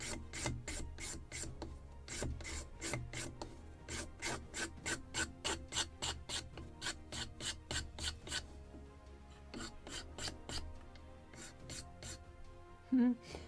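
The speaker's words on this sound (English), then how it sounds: "Just scrape, and it's very rough. That's why I'm leveling it with file or sanding block." A file and sanding block rasp across a wooden part of a Model Shipways kit of the 1776 gunboat Philadelphia, with quick, regular back-and-forth strokes, close and clear, pausing briefly before resuming.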